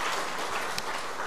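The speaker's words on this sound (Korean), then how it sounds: "우리 힘차게 감사의 박수 한번 하나님께 올리겠습니다" A church congregation applauds during a Sunday anniversary service, a short burst of dense, evenly sustained clapping from many hands filling the room, with no voices over it.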